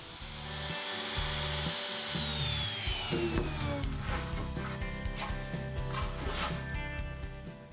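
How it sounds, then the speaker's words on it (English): A power router cuts a small chamfer along the bottom of Sapele wood cabinet legs, its high motor whine dropping in pitch under load, with rough, repeated grinding passes close by. "I'm using the router to put a small chamfer at the bottom of the legs."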